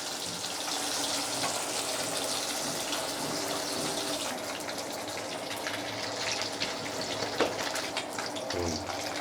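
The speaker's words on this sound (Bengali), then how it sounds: "মাছটা একটু লাল লাল করে ভেজে নেব।" Rui fish pieces fry in hot oil for a Bengali fish curry, a steady loud hiss and sizzle running throughout with brief crackles near the end.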